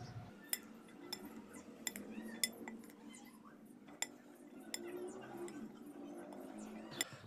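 A spoon mixing ingredients in a bowl for an iftar dish, with repeated light clinks against the bowl at an irregular pace over a quiet background.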